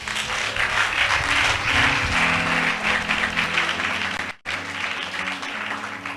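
A church congregation at a Thursday evening worship service applauding and acclaiming Jesus, with loud, dense, sustained clapping and crowd voices filling the room, cut off briefly near the end before resuming.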